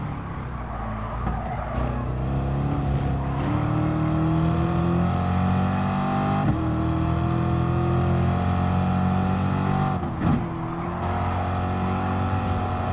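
A race car engine roars steadily at Monza in a racing video game, a loud sustained drone with shifting pitch under acceleration and hints of tire scrub, continuous and close.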